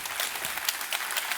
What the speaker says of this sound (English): Please give a round of applause to Kevin.